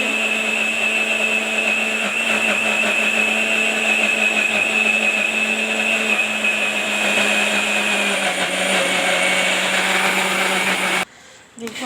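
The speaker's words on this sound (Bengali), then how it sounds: "এবার এটাকে ভালোভাবে বেটে নিয়ে আমি বড়া বানাবো, মিক্সিতে বেটে নেব।" A kitchen mixer grinder whirs loudly and continuously as it grinds soaked khesari lentils with chilli, garlic and ginger, a high motor whine that shifts pitch partway through and then stops abruptly near the end.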